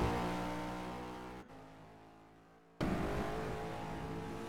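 An Aston Martin GTE race car on its out lap through the chicane at Le Mans, a loud close engine roar that drops abruptly when the throttle lifts for the chicane, then returns at full volume.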